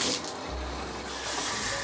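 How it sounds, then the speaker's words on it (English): Lukewarm tap water pours from a faucet into a bin, rinsing the roots of repotted philodendrons, a steady close splashing hiss that shifts in pitch partway through as the flow strikes the container. "I put it on lukewarm water"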